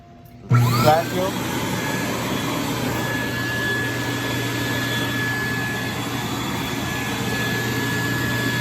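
A WAXIE Versa 2 cleaning machine's vacuum motor switches on abruptly and keeps running as a loud, steady whine with a rising pitch at startup, holding close and continuous to the end.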